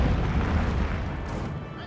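Grenade and satchel charge blasts in the World War II strategy game Company of Heroes 2, a muffled rumbling boom on an urban battlefield, moderately loud and slowly fading, with a voice talking over it.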